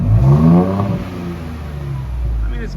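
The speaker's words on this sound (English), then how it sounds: "rev it up a little bit" A 2023 Ford Bronco Badlands fitted with an AWE exhaust revs up close by in a home garage, a short rising engine note that swells and then eases back over a low rumble.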